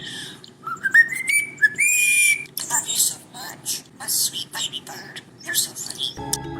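Starling bird whistling and mimicking other sounds: rising whistled notes and sharp chirps in quick irregular bursts, fairly close and loud, ending with a brief burst of broadband noise.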